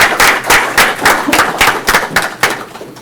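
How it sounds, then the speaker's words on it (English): A round of applause breaks out at a city council meeting, a crowd clapping steadily in quick rhythmic bursts for about three seconds, fairly loud and close, with no talking. "So I would like to give a round of applause to everybody"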